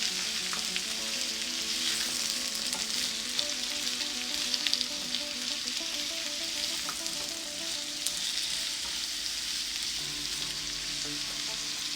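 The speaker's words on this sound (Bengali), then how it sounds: "অল্প একটু হলুদ গুঁড়া দেব অল্প একটু মরিচ গুঁড়া দেব দিয়ে এটাকে ভালো মতো নেড়ে দেবো" Hilsa fish frying in a pan while turmeric and chili powder are stirred in, a steady loud sizzle running throughout with scraping stir strokes and no talking.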